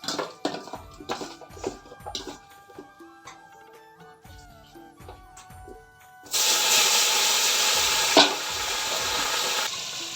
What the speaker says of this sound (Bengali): এদিকে হচ্ছে শুটকি মাছগুলো ওকে ভেজে নিলাম, হালকা করে ভাজছি।